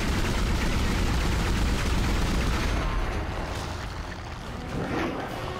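Gunshots in Dead Space ring out as a dense, loud barrage in the first three seconds, then thin into scattered blasts and rumble with no voice over it.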